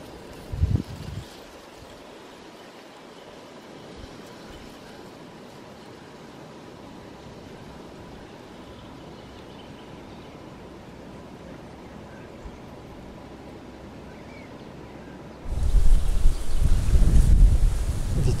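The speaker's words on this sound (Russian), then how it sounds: "Ветерок, правда, сегодня поднялся." Wind blows across an open fishing spot by the water, a steady soft rushing that lasts throughout and turns into louder buffeting gusts against the microphone near the end.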